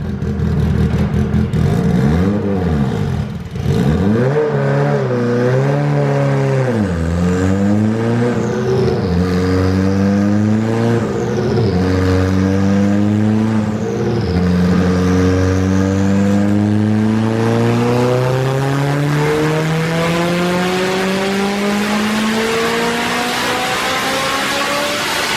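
A Honda K20 engine in an NSX, fitted with a Garrett G30-770 turbocharger, revs loudly on a dyno in long rising pulls, the engine note climbing steadily through repeated runs with turbo whine above, loud and close with no talk.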